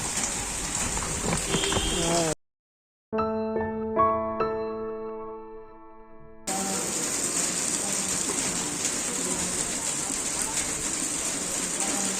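Heavy rain roars steadily, briefly cut off by a short stretch of clear tonal sounds before the downpour returns, loud and unbroken.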